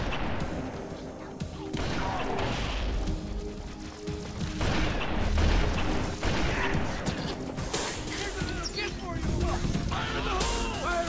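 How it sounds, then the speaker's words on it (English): Shade turret fire and explosions in the Halo CE video game, a dense, continuous barrage of weapon blasts and crashes mixed with game sounds, with talk running underneath throughout. "there goes the shade turret"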